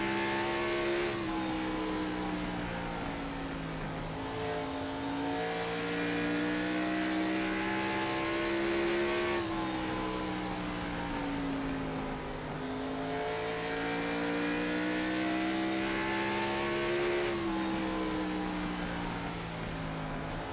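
Race cars lap Bristol in the iRacing video game with a continuous high engine whine that rises and falls in pitch through gear changes and corners, loud and unbroken for the whole stretch.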